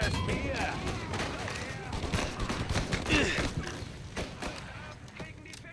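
Gunfire in the Mafia video game, a dense run of rapid shots and bursts with sharp cracks throughout, mixed with game sounds and voices.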